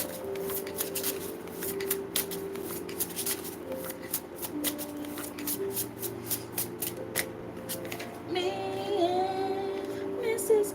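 A deck of tarot cards is shuffled in crisp, rapid riffles and flicks that repeat steadily and close up, over soft background music, with a denser fluttering burst near the end.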